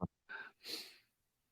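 Someone sneezes once during a quiet pause in a conversation about toy collecting, a short sharp intake followed by a breathy burst.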